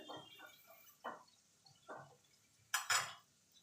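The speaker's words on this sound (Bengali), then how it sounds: "এবার জল দিয়ে দেবো।" Water is poured into a pot of pumpkin-greens curry with potatoes, heard as three soft splashy pours followed by a louder, brighter splash and clatter near the end, with quiet gaps between.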